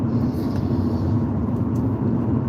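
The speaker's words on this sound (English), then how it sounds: "how much louder the noise is of the car driving right now" A car drives over an unpaved stone road, heard from inside as a steady low rumble and rolling road noise that stays loud and even, with faint higher rattles on top.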